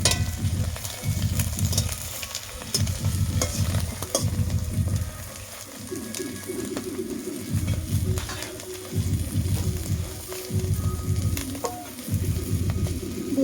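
Egg omelette pieces fry in oil in a wok, a steady sizzle broken by repeated stirring scrapes in uneven bursts, with faint bird cooing in the background and no talk.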